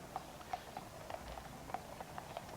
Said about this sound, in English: a police horse called Blaze